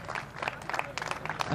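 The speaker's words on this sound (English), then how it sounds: "Applause all around" Crowd applause and clapping at a MiniGP World Final race podium in the makeshift parc fermé, steady scattered claps with a light crowd murmur throughout.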